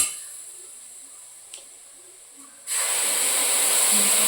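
Steam hisses while food cooks in a home kitchen. The room stays fairly quiet with a couple of small ticks, then a loud, steady hiss starts abruptly and continues to the end.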